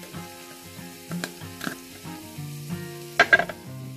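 Turmeric and ground spices sizzling in hot oil for a mutton curry, a soft hiss broken by clinks and scrapes of stirring, with a few sharp metallic taps near the end, close and fairly quiet.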